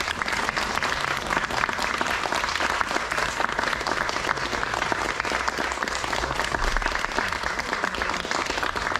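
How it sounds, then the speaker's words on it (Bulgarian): An audience bursts into steady, dense clapping for young performers after a children's theatre show, a full sustained round of applause that fills the room with no break. "Аплодисменти на нашите малки"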